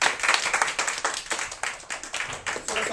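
A classroom of students claps in short uneven bursts of hand claps, fairly close and moderately loud, with no talking over it.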